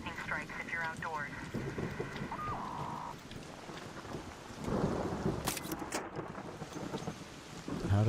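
An electromagnetic storm rages in Arc Raiders, with rolling thunder rumbling beneath steady rain and a loud burst of crackling around the middle, while a voice talks over the storm.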